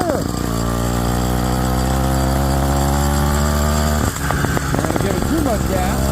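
A Phantom 85cc bicycle engine kit runs at close range, a loud buzzing two-stroke drone that holds steady, then briefly cuts and revs unevenly, with a voice talking over it.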